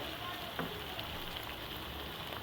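Mutton pieces frying in a hot pan for dhaba-style bhuna gosht, with a steady close sizzle and faint stirring clicks throughout, no voices.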